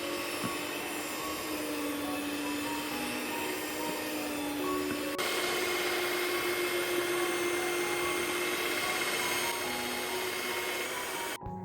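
An electric mixer whips ice cream batter at high speed, a steady loud whirring drone that runs without a break for the whole stretch and shifts slightly in pitch partway through.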